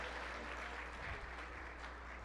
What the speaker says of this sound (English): So a big round of applause for all the dignitaries who are with us tonight.